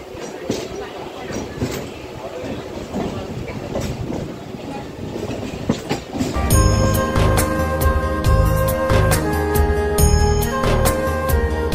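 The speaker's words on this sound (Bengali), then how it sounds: "ট্রেন ছাড়লো শিয়ালদা স্টেশন থেকে" A crowded train pulls out of Sealdah station, the opening stretch noisy with station bustle before a loud, rhythmic clickety-clack of wheels and rumbling carriages takes over as it gathers pace.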